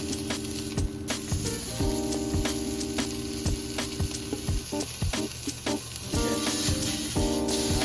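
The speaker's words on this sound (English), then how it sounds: "just make sure to sear every side of your steak" A sirloin steak, cooked sous vide, sears in a hot pan with a steady, loud sizzle and crackle that holds throughout, broken by a few brief clatters.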